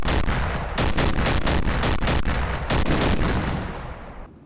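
Heavy cannon fire against armour in Garry's Mod with the ACF addon, a rapid series of loud booming shots about every third of a second, each with a sharp crack and rumbling tail, fading out at the end.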